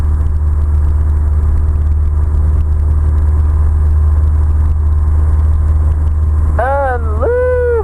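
Steady, loud droning engine of a Cirrus light airplane during a takeoff run, constant low rumble filling the cabin, with a voice briefly heard near the end.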